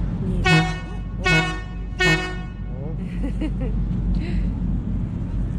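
A motorcycle horn toots three short, loud blasts in a row, followed by quieter background noise and faint voices.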